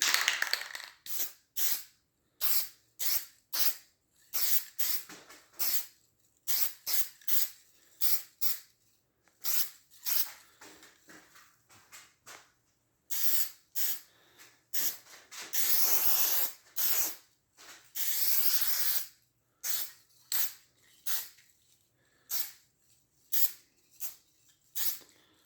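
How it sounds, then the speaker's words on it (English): Spray can primer being sprayed onto Honda ATC70 parts in many short, sharp hissing bursts, mostly about half a second each with a few longer sprays, close and loud with brief silences between. "I use plenty of cheap spray can primer and all sorts of stuff for different uses"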